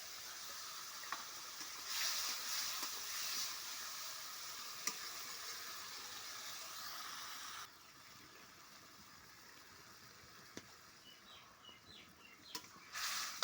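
Pointed gourd and potato pieces sizzle in fried spice paste in a pan, a steady, fairly quiet hiss throughout with a few faint stirring clicks and no talking.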